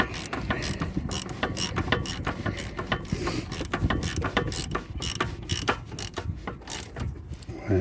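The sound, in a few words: ratchet tightening bolts on a front shock absorber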